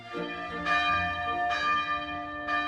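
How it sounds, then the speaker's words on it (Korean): A church bell tolls midnight, ringing out three full, resonant strikes spaced about a second apart, each one leaving a long, shimmering ring. "12시를 알리는 종이 울렸어요."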